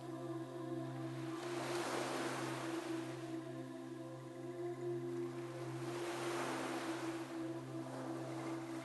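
Soft ocean waves swell and wash in twice, slow and distant, beneath sustained calm drone tones.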